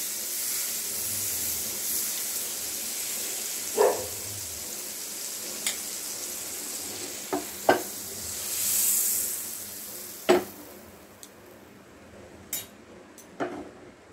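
Spanish omelette with mixed vegetables and egg frying in plenty of butter over a medium flame, a low steady sizzle with a few sharp clicks and pops scattered across it, with no talk.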